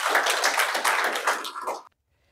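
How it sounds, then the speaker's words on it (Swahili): An audience applauds in a steady burst of clapping for about two seconds, fairly close and even, then stops abruptly into silence. "Tumpige makofi jamani."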